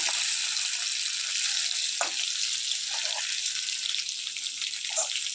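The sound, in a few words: chicken 65 pieces frying in oil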